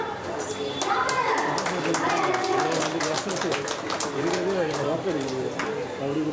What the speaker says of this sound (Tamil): மீண்டும் ஒரு பரத்த கைத்தட்டல் கொடுக்கலாம்